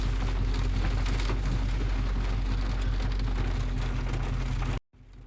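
Rain patters steadily on a parked 2018 Jeep Trackhawk at night, a dense close drumming with a low engine-like hum beneath, cutting off abruptly near the end.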